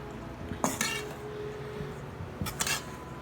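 A spoon clinks faintly against a bowl twice while cheese is mixed into biscuit dough, with quiet stretches between the two brief bursts.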